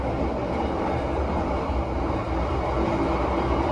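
The Gajayana executive train speeds along at night at up to about 120 km/h, a dense, loud, unbroken roar and rumble of rolling wheels with no talk.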